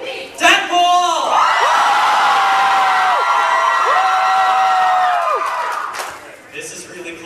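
A packed anime convention crowd cheers and chants, with loud sustained whoops and rising-and-falling group yells in two long swells, framed by shorter shouts at the start and end.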